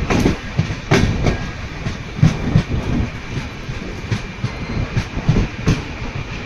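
A train running on rails near Kuppam on a Bengaluru route, with a steady loud rumble and regular clickety-clack wheel beats heard from inside or close by, continuous throughout.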